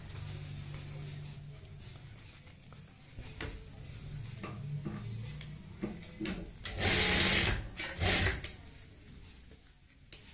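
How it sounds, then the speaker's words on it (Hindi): A sewing machine stitches printed fabric to form a neckline, with bursts of rapid mechanical stitching, short pauses and handling clatter, close and moderately loud, with no talk. "अब इसको हम पलटते हुए यहाँ पे सीधी साइड से सिलाई लगा देंगे।"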